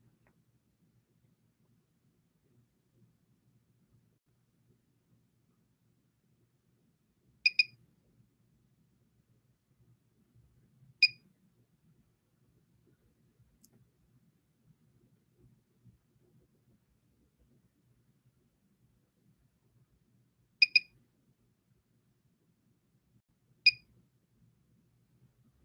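Short electronic beeps from a Mini By Clareblend microcurrent facial device, four separate pips spaced several seconds apart over a faint low hum, with quiet stretches between them and no talking.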